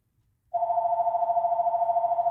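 A landline telephone starts ringing after a brief quiet moment, a loud, steady electronic ring tone that continues unbroken to the end, with no talking.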